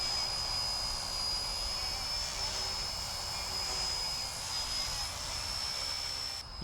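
A small RC helicopter flying in wind whirs steadily with a high, thin motor whine and a constant airy hiss, holding at about the same distance throughout.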